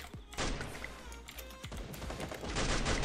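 Gunfire in a 4x4 shooter video game match: quick, loud bursts of shots and fusillade close by, with a few thudding impacts between them.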